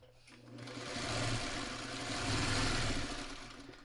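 Sewing machine running steadily as it stitches seams on a quilt block, a close, continuous mechanical whir that swells slightly and holds throughout with no talk.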